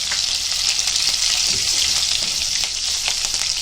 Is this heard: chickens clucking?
no